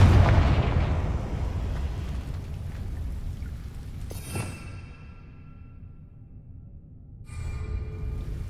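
A Confringo fire spell in Hogwarts Legacy lands with a loud, rumbling explosion that opens with a heavy boom and decays into crackling debris, followed by a short sizzling burst later on.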